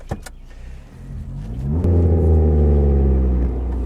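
A Suzuki Ignis Sport hatchback engine revs up steadily in first gear, its rising drone filling the cabin after a few brief clicks at the start.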